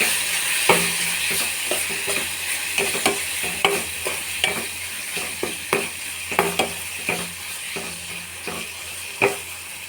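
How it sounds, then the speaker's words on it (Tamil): Vegetables with masala powder being stirred and sautéed in a pan for a potato and brinjal kootu, with steady sizzling and frequent sharp scrapes and clanks of the spoon against the pan, close and alone. "இப்போ இந்த மசாலா பொடியெல்லாம் கொட்டிக்கலாம் நல்லா வதக்கலாம்"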